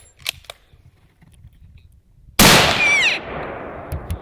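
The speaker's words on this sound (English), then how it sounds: "Shoot her again if you get the chance." Single sharp, loud rifle shot during an elk hunt, echoing out briefly after a few faint clicks and quiet rustling beforehand.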